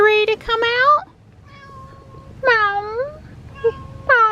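A cat in a pet carrier on a vet visit gives three drawn-out, wavering meows close by, separated by short pauses, with a person speaking near it.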